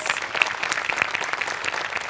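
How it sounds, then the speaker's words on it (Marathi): A studio audience at a Marathi comedy show claps together, a dense, even patter of many hands with sharp individual claps popping out, sustained at a lively level throughout. "प्रत्यक्ष नसलेल्या माणसांसाठी पण एकदा टाळ्या वाजल्या पाहिजे"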